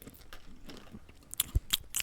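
Ice being chewed: a few sharp, crisp crunches and bites near the end, close to the mouth and fairly quiet, after a stretch of soft mouth noise.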